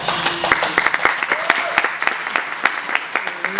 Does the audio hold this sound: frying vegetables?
no